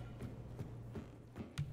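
Faint, rhythmic hoofbeats of a horse galloping at a distance in a video game, a steady clip-clop repeating every few tenths of a second.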